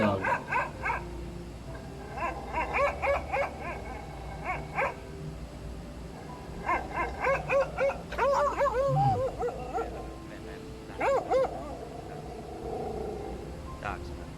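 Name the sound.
dogs barking at a shelter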